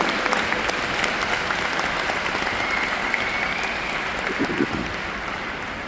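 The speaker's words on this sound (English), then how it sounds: "please, big applause to all the staff here" A seminar audience at a leadership training event in Budapest, Hungary, applauds the staff with sustained, even clapping from many hands across the room, steady and moderately loud throughout.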